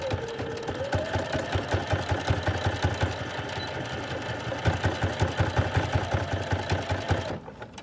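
A sewing machine runs close and loud, stitching down the pleats of a fabric face mask, its needle thumping in a fast, even rhythm with a steady motor hum throughout.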